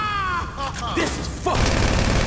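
Gunfire in the video game Grand Theft Auto V on PS3 sounds as sharp overlapping shots, with a loud sustained volley in the second half, alongside game voices and effects.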